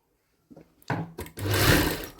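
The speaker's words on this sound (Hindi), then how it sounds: "यहाँ पर एक सिलाई लगा देंगे" A sewing machine stitches blouse fabric with a short run that starts after a few soft handling sounds and builds to a steady, close whir.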